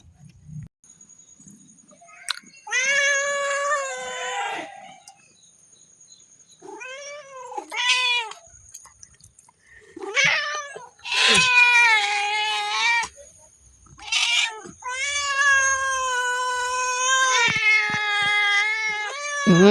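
A cat meows loudly and close by in a run of long, wavering cries and shorter mews, some stretching into drawn-out caterwauls, with brief pauses between them.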